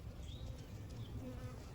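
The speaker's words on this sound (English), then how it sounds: "the little baby bees you can pick up because they aren't old enough to sting yet" Honey bees in an open hive colony make a dense, continuous low buzz, close and steady, with no talk over it.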